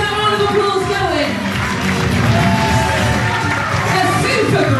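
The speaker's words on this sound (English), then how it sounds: "keep that round of applause going" Continued applause and cheering from the audience at a Strictly Come Dancing show in Reighton Sands, a constant dense crowd roar with claps beneath a presenter speaking over it.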